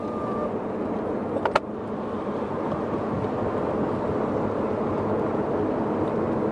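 A Porsche Boxster convertible cruises with the roof down on a freezing day, steady engine and road rumble mixed with wind noise, a brief click early on.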